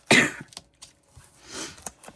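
A few harsh coughs and throat-clearing bursts, close and fairly loud, with short pauses between them and no talking.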